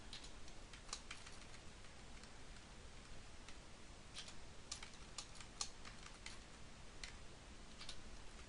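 Rapid computer keyboard typing in a steady run of close, crisp key clicks that cluster into quick bursts, with no talk over them.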